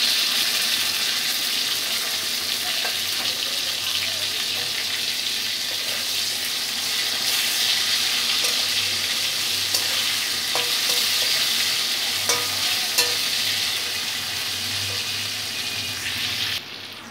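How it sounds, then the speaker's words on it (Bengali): Potato and tomato fry in a pan for moong dal khichuri, a steady, close sizzle running throughout with occasional scrapes and clicks of a spoon stirring, no voices. "আলুটাকে 2-3 মিনিট ভেজে নিয়ে টমেটোটা দিয়ে দিচ্ছি।"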